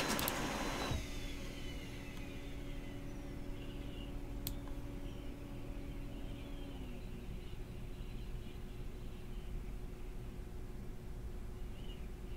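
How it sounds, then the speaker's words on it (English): A Brother HL-2320D laser printer runs through a print job with a steady mechanical whir and faint tonal hum that carries on evenly for about twelve seconds, near and moderately quiet, with no voices. "If anybody is in need of like a printer for themselves, I cannot more highly recommend the Brother HL 2320D."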